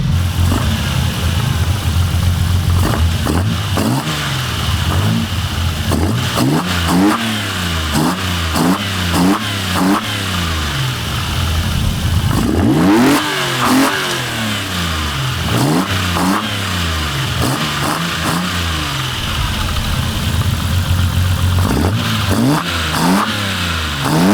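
A Toyota Supra's 2JZ engine fitted with individual throttle bodies revs repeatedly from idle, each blip climbing sharply and falling back, loud and close from the engine bay, with one long high rev in the middle.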